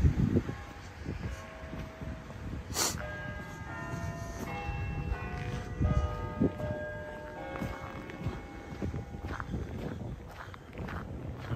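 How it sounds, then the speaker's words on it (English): Church steeple clock bells ring out the quarter hour on a frigid -22 C downtown Regina street, clear sustained tones over crunching footsteps and distant city hum. "Those are the quarter-hour bells,"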